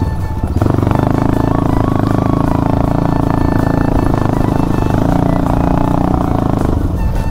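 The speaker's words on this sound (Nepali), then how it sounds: "बाइकको साउन्ड अझ ठुलो भए जस्तो लाग्यो यार" A motorcycle engine runs loudly and steadily during a ride, a close, droning rumble with a sustained throb and slight clatter, no speech over it.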